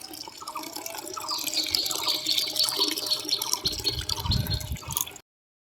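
Water runs steadily from a tap into a container, a continuous splashing fill with faint dripping, holding at a constant level before cutting off abruptly near the end.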